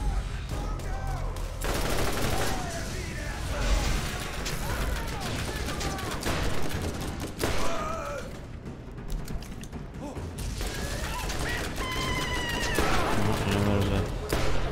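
Rocket launcher and rapid gunfire in Borderlands, dense bursts of shots and explosive blasts layered with mechanical clanks over a busy, continuous game soundscape, with a voice speaking in places.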